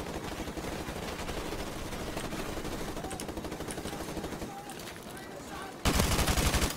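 Rapid automatic gunfire from a Call of Duty: Modern Warfare Remastered campaign battle on PC, dense bursts running steadily throughout and jumping louder near the end, with a voice talking faintly over it.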